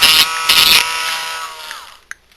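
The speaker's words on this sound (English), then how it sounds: "You want to make sure you have really good control over the Dremel." A handheld Dremel rotary tool sands a plastic 3x3x3 puzzle cube piece in two short, loud high-pitched whining bursts, then the motor spins down and fades, ending with a small click.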